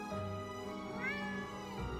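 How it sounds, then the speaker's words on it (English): A cat meows once, a drawn-out, rising-then-falling call close by, with no talking around it. "That's an actual Bruno meow."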